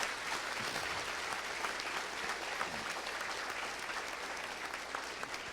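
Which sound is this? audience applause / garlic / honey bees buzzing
audience applause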